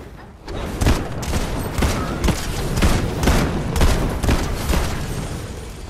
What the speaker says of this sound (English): I just got sniped by them